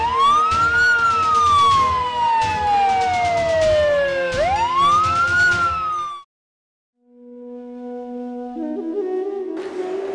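A loud wailing emergency siren sweeps up and down through several long cycles, then cuts off abruptly; after a brief silence, steady tones and rising noise follow.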